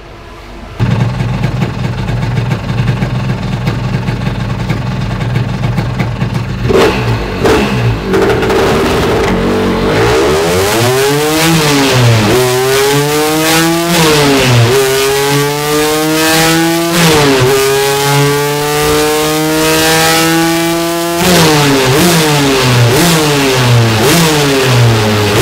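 Vespa PX scooter with a Quattrini 265 cylinder at full throttle, the two-stroke engine idling then revving hard through repeated gear changes, pitch climbing and dropping with each shift, loud and close with no talking.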